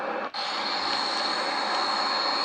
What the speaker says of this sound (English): touching down the airplane, parking brakes, and full thrust reverse